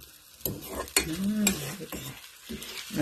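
A spatula stirs and scrapes scrambled eggs with milk and butter in a hot frying pan, sharp metallic scrapes and clacks over a light sizzle, close up and uneven in rhythm.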